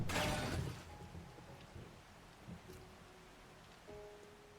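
Rain falls in the survival game 7 Days To Die as a soft, even hiss with faint patter, steady and quiet with no talk over it.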